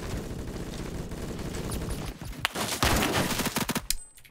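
Gunfire in an old Roblox shooter game: a dense, continuous barrage of rapid shots, then sharper individual cracks and bursts of automatic fire, loud and close.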